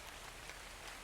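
Steady rain falls in an even, continuous wash, faint and uniform throughout, with no voices.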